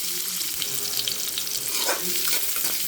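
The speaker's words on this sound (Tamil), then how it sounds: "கருவேப்பில் போட்டுக்கலாம் வெங்காயம் போட்டுக்கலாம் நல்லா வதக்கலாம்" Onions and curry leaves sauté in a hot pan for an egg thokku, a steady bright sizzle with soft stirring scrapes, close and continuous without talk.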